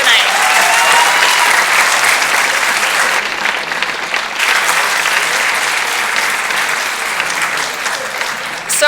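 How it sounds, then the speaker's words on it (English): A hall full of people applauds candidates at a federal election debate forum in Thunder Bay, steady loud clapping that holds for about nine seconds before fading. "Please give your candidates a round of applause for a great job tonight."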